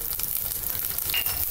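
Curry leaves and green chillies crackle in hot oil for a rava vegetable khichdi: a brief, steady, close sizzle with no talking.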